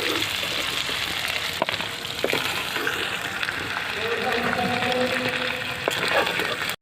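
Chicken frying in hot oil for a Bhojpuri-style village recipe, a steady close sizzle with watery bubbling that runs throughout, with speech under the sizzle.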